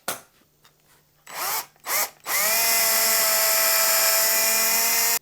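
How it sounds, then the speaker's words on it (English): A power drill with a 3 mm bit bores screw holes in a guitar body. Two short revving bursts come first, then a loud, sustained high whine up close as the bit runs through the wood. "I'm going to go with a 3 mil drill bit to drill those holes."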